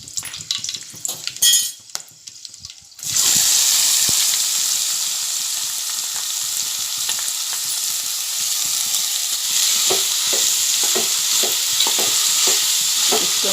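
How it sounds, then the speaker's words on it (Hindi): Chopped onions frying in a pan for masoor pulao: a brief clatter of dropping pieces, then a loud, steady sizzle that runs throughout, with repeated light stirring scrapes toward the end. "इसको मैं गोल्डन होने तक तलूंगी।"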